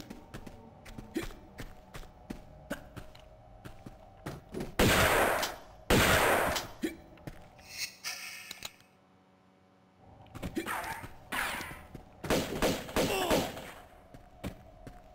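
Repeated gunfire in Tomb Raider 2 Remastered, with bursts of rapid shots and heavy blasts coming in clusters, a short quiet gap partway through, then more loud volleys.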